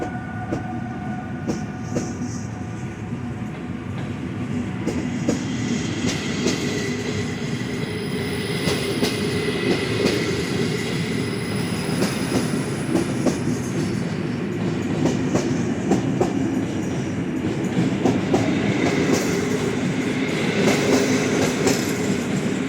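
Intercity passenger train passing on the line at Kołobrzeg, Poland, a steady loud rolling rumble with clickety-clack wheel beats and faint wheel squeal running through the whole stretch, no voices.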